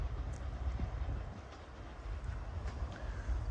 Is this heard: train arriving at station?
yes